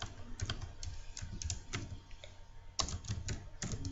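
Computer keyboard typing while text goes into a box in a report layout, a quiet, close run of irregular key clicks with short pauses between bursts.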